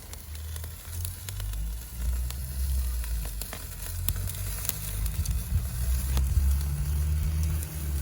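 Oyster steak sizzling over a live fire grill, a continuous crackling hiss with sharp pops and snaps scattered throughout, close and moderately loud, with a low rumble underneath and no talking.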